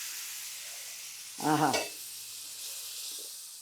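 Hot tempering poured into a pan of tamarind dal (pappucharu) sets off a faint, steady sizzling hiss, with a short exclamation from a voice partway through.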